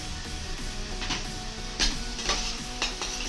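Peas and finely chopped capsicum being stirred into poha in a frying pan, with steady scraping and sizzling and a few sharper spoon clatters against the pan, close and moderately loud.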